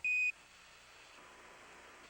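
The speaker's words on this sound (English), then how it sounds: "Roger, 1201 alarm." A single short, loud electronic beep from the Apollo 11 lunar module's 1201 program alarm, heard once at the start and followed by faint static hiss.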